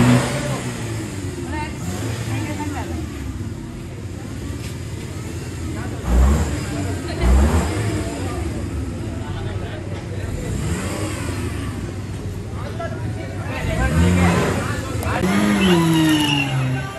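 A stuck car's engine revs repeatedly, rising and falling in strained bursts as the wheels fail to free it. People talk over the engine noise throughout.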